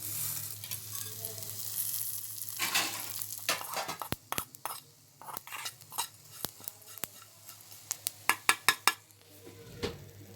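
Ginger garlic paste fries in a kadai, a soft sizzle beneath repeated clinks and scrapes of a metal spoon against the pan, the strikes growing sharper and more frequent toward the end.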